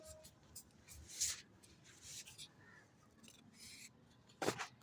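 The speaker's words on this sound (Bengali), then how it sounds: "এ পাখি" A crow calling outdoors in a quiet setting, giving a couple of faint, distant caws, one early and one near the end, over low rustling and scraping.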